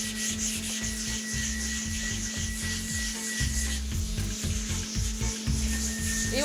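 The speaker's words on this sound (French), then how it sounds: "ponçage à la main, c'est juste un petit système d'aspiration" Hand sanding of waxed concrete laid over old tile, with a small vacuum attachment drawing off the dust: steady rhythmic rubbing strokes close by over a constant suction hum, with no talking.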